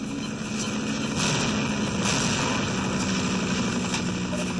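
A helicopter's rotor in the video game Half-Life thrums steadily and loudly throughout, a continuous engine drone with no speech over it.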